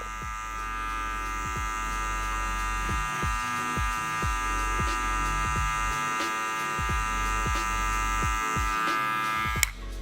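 Electric hair clippers with a guard fitted hum steadily and close throughout a taper fade, a continuous buzzing drone with faint rhythmic changes as the blades sweep through hair, ending with a small click.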